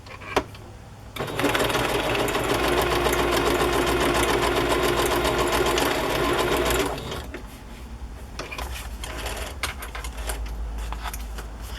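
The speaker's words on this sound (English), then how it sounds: "will sew the front on, but I'm going to add this little piece" A sewing machine stitches a fabric piece onto a fabric-covered journal cover, running loud and steady for about six seconds before stopping, followed by quieter handling noises.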